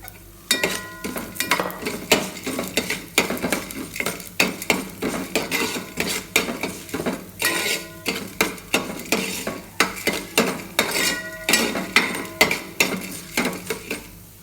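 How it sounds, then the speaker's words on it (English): Urad dal and cumin seeds tipped into a pan and stirred with a metal spoon, giving a run of sharp clinks and scrapes in an uneven rhythm, close and fairly loud, with no talking. "Now I am going to add urad dal to this and jeera."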